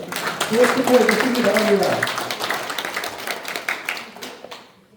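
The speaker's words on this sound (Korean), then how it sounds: "다시 한 번 큰 박수 부탁드리겠습니다" Audience at a gateball tournament opening ceremony claps in a sustained round of applause that fades out over a few seconds, with a voice talking over the start.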